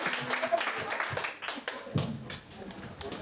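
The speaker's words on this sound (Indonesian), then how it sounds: "Tepuk tangan dulu untuk ketiga peserta." Audience applause for three student participants at a university public speaking presentation, a dense spread of hand claps with sharp taps scattered across the burst, a voice briefly audible among the clapping.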